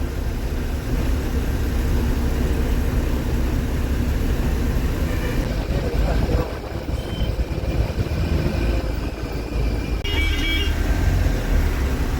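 Road traffic noise near a flyover under construction in Coimbatore: a steady, loud wash of vehicle engines and rumble continues throughout, with a faint higher tone briefly rising near the end and no talk.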